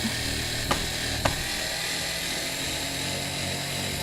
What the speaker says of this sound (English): I'm going to take my drill, put it in reverse, and I am going to take these screws out